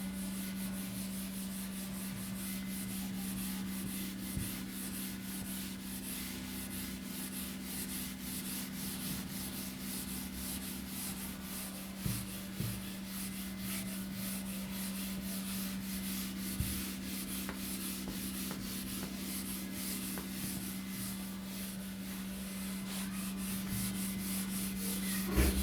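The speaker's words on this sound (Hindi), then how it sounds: "चलिए पहले इसको आर्टिकल 163 को रब कर देते हैं।" A writing board is rubbed clean with a duster, producing a steady, continuous scratchy rubbing sound for the whole stretch, with a few brief knocks and scuffs, heard alone without talk.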